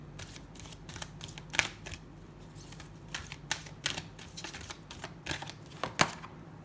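Tarot cards being drawn and handled from the bottom of the deck, giving a quick series of close, crisp papery flicks and snaps in an irregular rhythm, with no talking.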